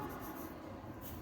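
A pen writes a Hindi word by hand during a primary-school lesson, giving soft, continuous scratchy strokes close up with no talking.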